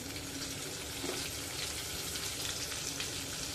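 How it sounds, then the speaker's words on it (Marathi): Squid pieces deep fry in hot oil over medium heat, giving a steady, even hiss of sizzling bubbles that is soft and continuous, with no talking. "तुम्ही बघू शकताय मस्त फ्राय होत आहेत"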